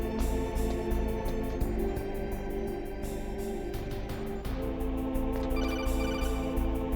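An incoming codec call ringing in the video game Metal Gear Solid, with a loud electronic ringtone of rapid repeated pulses in a steady pattern and a brief break partway through.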